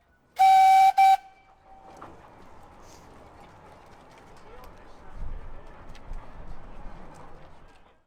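A small heritage railway train at Perrygrove sounds a short double whistle blast at the start, followed by quieter running rumble and distant activity, with talk over the scene.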